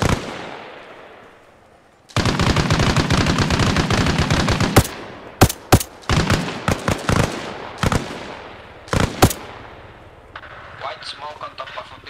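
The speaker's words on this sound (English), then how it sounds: "there's heavy machine gun fire going off" Heavy machine gun fire in the military shooter game ARMA Reforger, a dense sustained burst giving way to separate loud bursts and single cracks, loud and near, followed by quieter scattered shots.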